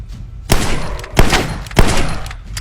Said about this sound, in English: You hear that? It reloads manually